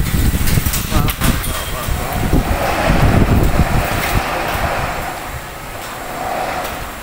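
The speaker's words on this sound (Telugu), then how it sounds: "భయంకరంగా వచ్చేసింది గాలి." Strong, gusty wind roars and buffets the microphone loudly and continuously, surging and easing in waves, with a voice talking faintly beneath it.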